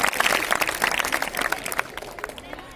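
A crowd claps loudly at a school prize-giving ceremony at an inter college of science. The dense applause is strongest at first, then thins and fades over the last second.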